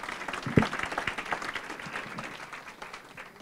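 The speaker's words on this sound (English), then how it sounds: "Let's give Mary Ludwig an extra round of applause for starting us off this morning." Scattered, fairly quiet applause from a small audience at a faculty breakfast, with one sharp clap standing out early before the clapping thins and fades.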